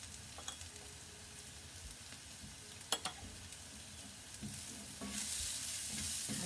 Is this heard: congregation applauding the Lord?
no